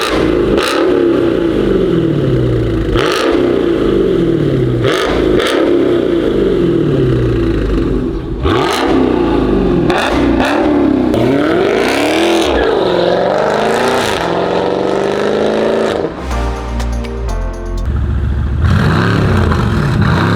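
A Mercedes-AMG GT with a Corsa exhaust revs hard and repeatedly, loud and close, with sharp throttle blips rising and falling, then crackling pops on the overrun and a rumbling idle between bursts.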